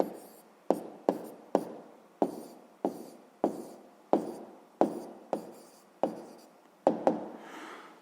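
A pen writes out a sum in money on paper, a steady run of about a dozen quick scratching strokes, close and clear with no speech over them.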